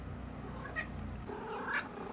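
A cat meows in two short, rising calls, the second a little louder, over a steady indoor background rumble.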